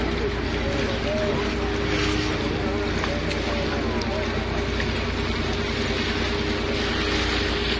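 Steady engine drone of a boat running both engines on the water in Venice, with wind and splashing across the whole stretch, constant and fairly close.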